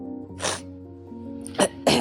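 A woman coughs heavily in bursts: one harsh cough, a pause with low background hum, then two more rough coughs close together near the microphone.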